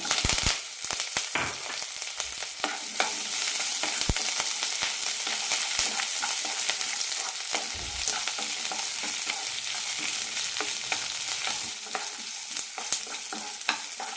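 Onion, green chili and curry leaves sautéing in a hot pan for cabbage chutney; a continuous sizzle and fry, broken by sharp scraping stir strokes and clinks throughout, close and fairly loud, with no talk.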